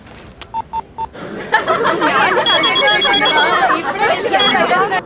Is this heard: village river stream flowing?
no